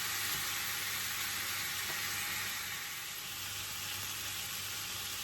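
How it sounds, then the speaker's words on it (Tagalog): Chicken pieces browning in a pan for Filipino chicken tinola, giving a steady, even sizzle and frying hiss that carries on without a break, close and moderately loud. "I have put now on the chicken. Let it brown first."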